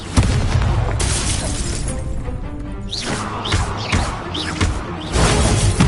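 Fire spells Confringo and Incendio in the Hogwarts Legacy video game burst out in a dense string of loud booming blasts and crashing impacts, close and continuous over a rumbling low roar.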